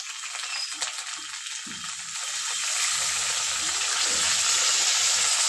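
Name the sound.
water added to sizzling spice paste in a pan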